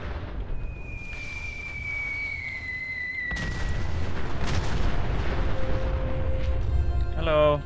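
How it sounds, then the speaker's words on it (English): Bombardment explosions in Fallout 4, distant rumbling booms that swell into a dense, continuous barrage, with faint tonal game sounds laid over it. "The bombardment's still going on"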